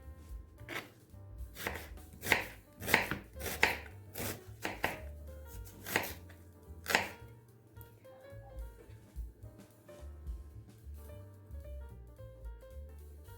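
A knife chops onion into small cubes on a board for a Kazakh-style salad of brown and green tomatoes, giving a run of sharp, close, irregular strikes that cluster early and then thin out, with no talking.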